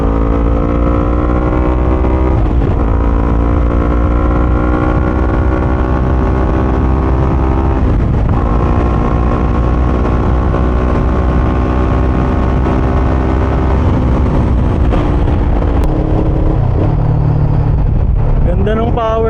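A Voge 500 DS motorcycle accelerates hard along a long straight, its engine note climbing steadily through several gears with brief dips at each shift, loud and close under wind noise.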